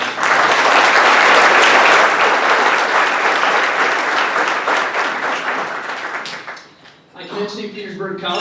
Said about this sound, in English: if we could give the congressman a round of applause